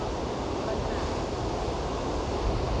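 The Shivanasamudra waterfall roars with heavy flowing water, a dense, steady, unbroken rush heard without any voices.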